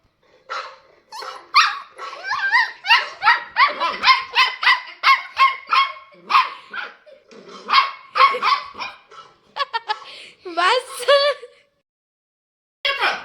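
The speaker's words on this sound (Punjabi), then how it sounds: "ਉਹਨੂੰ ਭੌਂਕ ਦੇ" A dog barks repeatedly in quick, loud bursts close by, with a few higher yelps near the end before it falls quiet.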